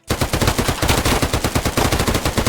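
Rapid automatic gunfire in Arma 3, a military combat game, loud and close, with dense repeated bursts of shots filling the whole stretch and no pauses.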